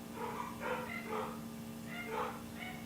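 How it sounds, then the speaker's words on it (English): Dogs barking downstairs in two short clusters of several yaps each, a little muffled as if from another room. "that's dogs barking downstairs"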